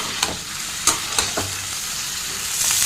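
Cauliflower pieces fry in hot oil for a cauliflower gravy, giving a steady broadband sizzle with a few sharp scraping stir clicks near the start and the frying swelling slightly louder toward the end.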